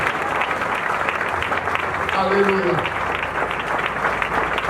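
Applause from a congregation at a spiritual revival service, a steady broad wash of clapping that fills the whole stretch, with a voice calling out briefly in the middle.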